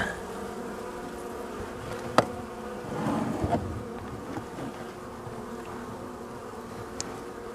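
Dense, steady buzzing of many Caucasian honeybees inside a hive fills the air with a low hum, punctuated by a few faint clicks and knocks.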